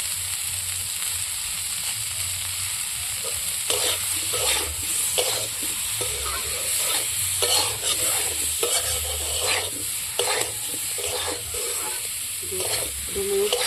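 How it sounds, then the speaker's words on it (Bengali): Vegetables sautéing in a pan with salt and turmeric for a rui fish curry with cauliflower and potato, a steady sizzle under repeated scraping stirs of a spatula at a regular rhythm, close and moderately loud. "কষিয়ে নেব সবজিটা ভালো কষা হলে সবজিটাও ভালো লাগে"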